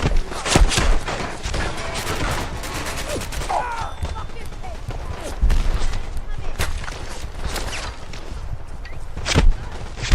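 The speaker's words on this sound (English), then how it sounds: "You hear like those bullets thumping into everything," Fallout 4 gunfire at Home Plate: rapid shots crackle through the whole stretch, with bullets thudding into surfaces and whizzing past, loud and dense, over a busy background.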